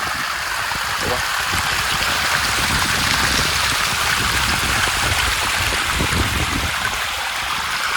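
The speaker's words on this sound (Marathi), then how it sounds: "या ठिकाणचा आपला छोटासा धबधबा तर बघा कसला एक नंबर आहे" Continuous rushing splash of a small waterfall, close and fairly loud, a steady broadband roar of falling water throughout.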